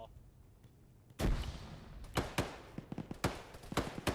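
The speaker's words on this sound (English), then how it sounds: "No, those were my grenades." Several booming blasts from grenades detonating in the military game Arma, a heavy first burst followed by a string of sharper, irregular bangs at varying distance over a low background rumble.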